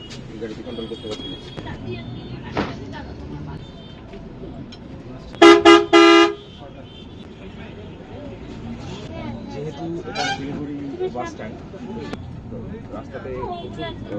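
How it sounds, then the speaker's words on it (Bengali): An SBSTC AC Volvo bus pulls away, with a low engine rumble under passenger chatter and a brief burst of several short horn toots midway from traffic outside. "এখন বাস ছাড়লো এখন সময় সাতটা চল্লিশ"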